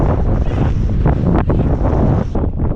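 Strong wind buffets the microphone in loud, continuous gusts outdoors while fishing for bass near Grand Rapids, with low roaring rumble throughout.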